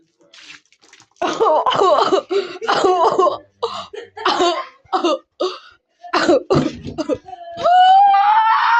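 Water splashed on a cousin as a prank, with splashing and sloshing bursts mixed with coughing, laughter and shouting, close and loud.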